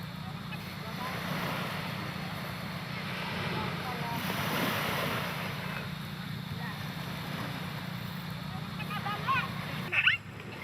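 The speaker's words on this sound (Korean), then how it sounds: "해변의 밤은 차가운 바닷바람과 함께 찾아온다." Cold sea wind and waves on a beach at night, a steady low rumble of wind and surf with a swell in the middle and a brief knock near the end, under a narrating voice.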